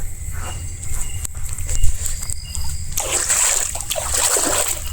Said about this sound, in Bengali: আমি পাটা ধুয়ে নিই।